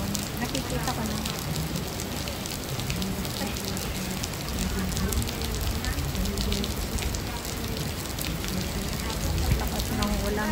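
Heavy rain pours during a summer festival outing, a dense, steady hiss that stays loud and even throughout. Faint voices sit beneath it.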